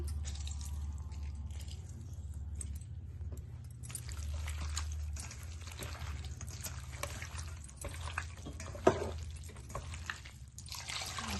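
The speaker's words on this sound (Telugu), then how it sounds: "3-4 సార్లు కడుక్కున్నాక కొంచెం మళ్ళీ సాల్ట్, నిమ్మకాయ పిండుకొని కడుక్కోవాలి." Running water poured and splashed over mutton pieces being washed with salt and squeezed lemon in a kitchen, a steady close wash with low rushing flow, occasional splashes and a brief clatter near the end, no talking.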